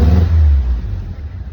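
A car engine, cold after sitting unstarted for a month, idles close by with a steady low rumble that eases slightly after a stronger opening burst, plus some faint clatter.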